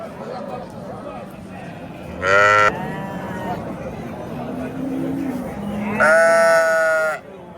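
Two loud, close sheep bleats a few seconds apart, over a low murmur of background voices and crowd noise at a livestock market.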